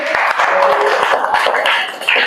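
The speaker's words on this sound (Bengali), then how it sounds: "আমরা এই চারজনকে একটু শুভেচ্ছা জানাই হাততালি দিয়ে" Students in a classroom clap together in a loud, steady burst of applause, with many hands beating quickly throughout and no clear gaps between claps.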